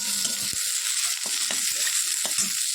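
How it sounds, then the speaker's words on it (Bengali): Fried dried red chilli, garlic and black cumin ground by hand on a stone grinding slab, a steady gritty rasp with rhythmic crushing strokes close by, no talking. "এবার হচ্ছে বাটবো শিলে"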